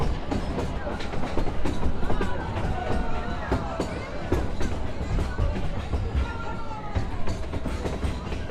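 A Halloween-themed ride train rolls along with steady rail clatter and rumble, a busy crowd murmuring and calling out throughout.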